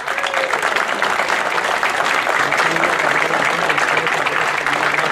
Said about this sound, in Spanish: para quienes pido un fuerte aplauso.